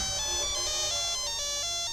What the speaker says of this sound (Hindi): नेहा, तुम्हारा फोन।